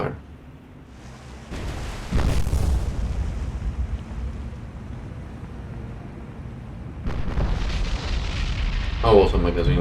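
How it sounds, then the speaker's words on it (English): A ship's magazine blows up in the naval combat game War on the Sea, with a deep, sustained rumbling blast that swells and lingers, followed by a second surge of booming noise near the end. "That was a magazine explosion."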